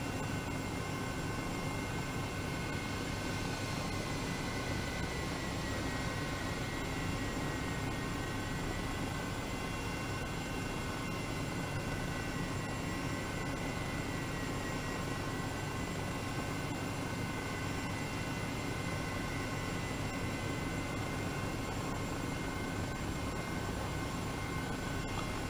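EC 135 helicopter in flight in Microsoft Flight Simulator 2020, a steady dense rotor and turbine roar with constant tonal whine, loud and unbroken throughout, no talk.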